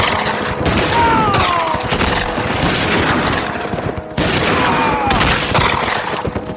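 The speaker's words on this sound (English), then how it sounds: "the white men stepped down from their saddles, dropped to their knees, and aimed their rifles at the warriors who bore down upon them" Volleys of rifle fire from kneeling riders firing at charging warriors in an audio drama, with dense overlapping shots and booms rolling in loud waves.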